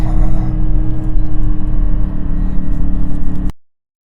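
A 2021 Aston Martin DBX drives along a twisty mountain road in the Colorado Rockies. Its engine gives a loud, steady, deep drone heard from inside the car, and the sound cuts off abruptly near the end.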